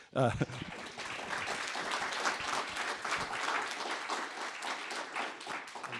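A conference audience applauds at the end of a paper session on industrial policy, dense steady clapping from a room full of people that starts sharply and continues evenly throughout.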